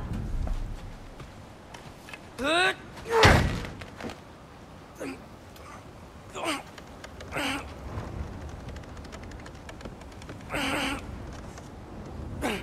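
In God of War Ragnarok, a frozen door is forced open with scattered cracks, thumps and scraping impacts, one loud burst near the start and sharper hits spread through the rest, heard alone without talk.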